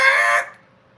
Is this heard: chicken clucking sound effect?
yes